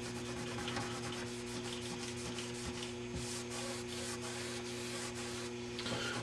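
Continuous rubbing on the plastic cabinet of an Admiral 20X11 being restored, polished with Novus No. 2 polish, a steady, close abrasive swishing with no pauses, over a faint background hum.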